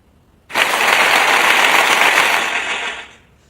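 Studio audience applause during a Spanish-language talk show, a sudden burst of dense clapping that holds steady for about two and a half seconds and then fades out quickly.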